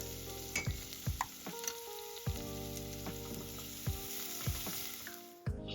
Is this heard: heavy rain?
no